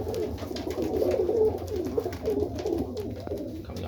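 Serbian Highflyer pigeons coo steadily inside a loft, a dense overlapping murmur of soft throaty calls held close and fairly loud across the whole stretch, with no talking.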